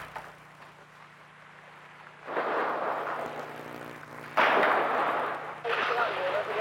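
Gunfire in a battle around a TV station, with civilians caught in the crossfire: a dense, continuous crackle of shots that surges loudly in bursts after a quieter opening, with a low steady hum beneath.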